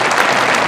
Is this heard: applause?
yes